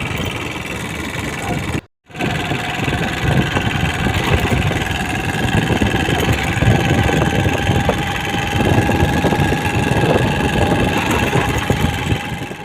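A motorbike engine idles and runs steadily up close, a continuous mid-pitched rumble with one brief cut near the start.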